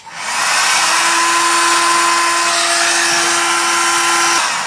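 Steady, close roar of a torch heating a gearbox part from a 1954 Panhard Junior clamped in a vise, a constant broadband hiss with a faint even tone beneath.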